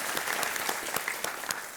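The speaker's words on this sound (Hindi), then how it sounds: "बहुत जोरों से ताली बजाई आपके परिवार ने।" A family applauds loudly in a game show studio on KBC season 9, a steady dense wash of clapping with a few sharper peaks, close and continuous.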